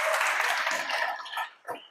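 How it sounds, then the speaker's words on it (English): An audience claps and cheers at a community association annual meeting, a dense burst of applause with voices mixed in that thins out and fades over two seconds, ending in a few scattered claps. "Give yourselves a huge round of applause."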